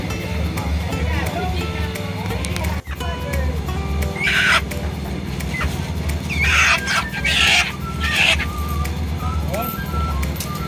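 Live chickens clucking and a rooster crowing at a construction site where a post foundation is being poured, loud and close, with repeated bursts over a steady machine hum and people talking nearby.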